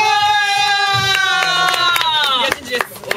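Warm audience applause and light cheering greet a Japanese stand-up comedian walking on stage, the clapping running steadily underneath his loud, speaking voice.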